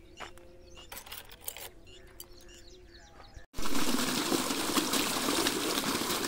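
Over a quiet sugarcane field with birds and distant clicks, an irrigation water pump motor switches on abruptly and water gushes out in a loud, continuous rush that lasts to the end.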